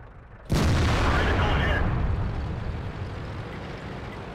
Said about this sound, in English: The artillery.